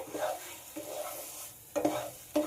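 Sago laddu mixture with raisins is stirred in a pan over low heat. A soft sizzle runs underneath while a spoon scrapes in repeated short strokes, growing a little louder toward the end.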